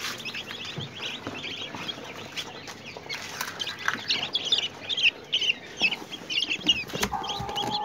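Newly hatched chicks chirping nearby, a busy stream of high peeps and cheeps that grows louder and denser toward the end, with no talking.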